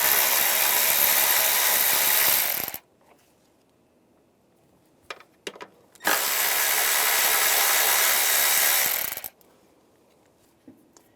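A power ratchet with a 10mm socket spins two nuts off a 2011-2018 RAM 1500 3.6L V6, two loud sustained whirring bursts of about three seconds each, separated by a quiet gap with small clicks.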